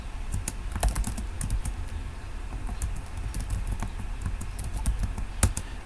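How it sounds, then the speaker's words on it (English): Computer keyboard typing during statistics homework in SAS: a steady run of quick, irregular key clicks close to the mic, with no talking. "This is definitely going to take a lot of typing."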